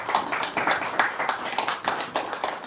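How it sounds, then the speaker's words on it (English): A small group claps for the mums in the audience, scattered uneven hand claps rather than a full ovation, fairly close and lasting a few seconds. "Let's give a round of applause for all of our mums out there."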